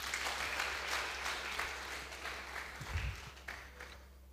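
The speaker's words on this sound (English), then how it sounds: "Please clap for him again." Audience applause at a memorial lecture, a steady wash of clapping that carries on throughout at a moderate level, with a brief low thump partway through.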